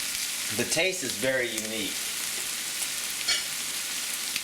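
Corn kernels spread one layer thick in a pan fry with a steady bright sizzle that runs throughout, while someone speaks briefly over it early on.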